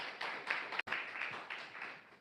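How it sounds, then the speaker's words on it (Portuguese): Church congregation applauding together, a steady dense wash of hand claps sustained throughout with a brief break near the middle. "Palmas de vitória"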